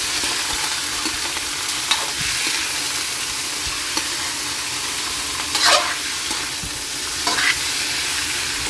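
Pork stir-fried with sautéed onions for pork adobo, a loud steady hiss of hot oil with a few scraping stirs of a spatula, close and without talk.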